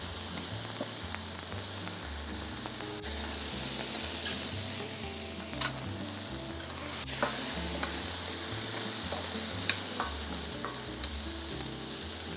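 Cherry tomatoes seasoned with salt and pepper sizzle and fry in a hot pan, a steady loud crackle with occasional stirring and scraping, and no voices.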